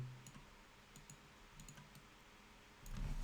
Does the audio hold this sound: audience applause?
no